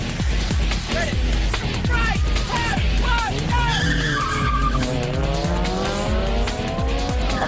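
Powerful street racing cars skidding on a track, repeated sharp tire squeals and engine revs that sweep up and down, loud and close, with a crowd or voices faintly mixed in.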